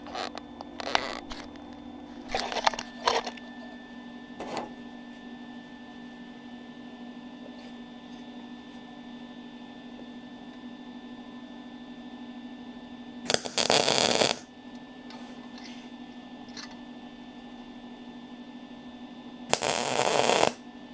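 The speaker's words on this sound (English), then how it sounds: "So I'll weld that together." Steel rod being tack welded for a tooth stand, with a steady electrical hum running throughout and several short, loud crackling bursts of arc welding, some under a second and others lasting around a second.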